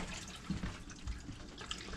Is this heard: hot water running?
yes